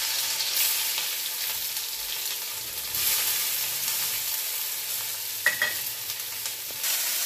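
Capsicum fries in a spoonful or two of hot oil on a tawa, giving a continuous close sizzle with a faint clink from a utensil near the end.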